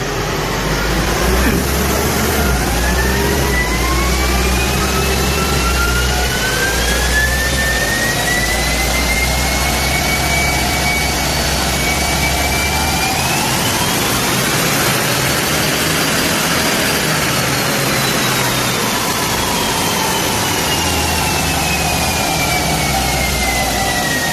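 A Mitsubishi Pajero Sport fitted with a 2-in-1 performance box and electric throttle controller revs hard on a dynamometer, giving a loud, continuous engine roar with a high whine that climbs, dips and climbs again, with no talking.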